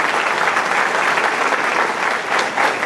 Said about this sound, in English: How about a round of applause for Representative Vidas?